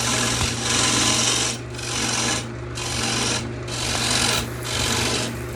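Lathe turning a punky sweetgum bowl lid, cutting away the bottom dovetail: a steady low motor hum under a continuous rasping scrape that swells and fades in repeated passes.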